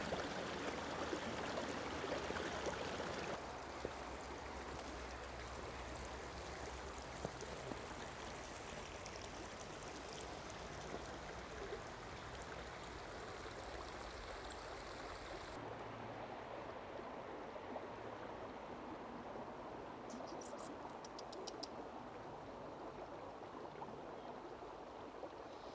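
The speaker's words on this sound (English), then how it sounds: "This is the River Rothay behind me here" The River Rothay flowing near White Moss Common between Grasmere and Rydal Water in the English Lake District: a continuous broadband rush of running water, close and steady, with no voices.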